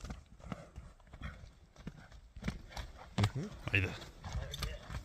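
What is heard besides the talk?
horse walking, hooves clip-clopping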